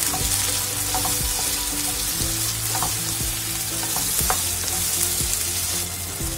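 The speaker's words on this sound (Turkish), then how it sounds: "Bunu da bir güzel kavuruyorum arkadaşlar." Tomato and onion sizzle and crackle steadily in a hot pan, with occasional scrapes and clinks of a utensil stirring, loud and close throughout.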